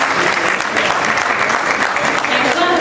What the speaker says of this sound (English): So clap if you are happy for the next step after graduation